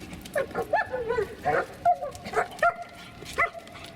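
A dog in training gives a run of short yips and whimpering whines, close and fairly loud, repeating in quick uneven bursts.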